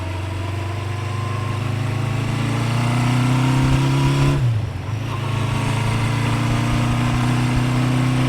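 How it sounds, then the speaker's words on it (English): A 1976 Honda CB550 motorcycle engine runs loudly up close, its steady drone climbing in pitch, then dipping briefly at a gear change before settling into a new steady tone. "Shifts through all the gears. Sounds really good."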